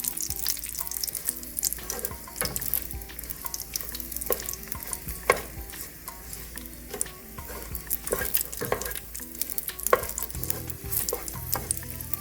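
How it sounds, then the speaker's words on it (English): Beef for birria tacos fries in a pot while a spoon scrapes and stirs it in repeated clattering strokes over a constant crackling sizzle, with no talking. "What we're going to do is just give them a little bit of a stir. We're not going to let them sit on the bottom too long."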